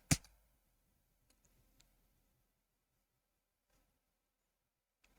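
A computer keyboard's Enter key gives one sharp, close click at the start, followed by a few faint ticks in otherwise near silence.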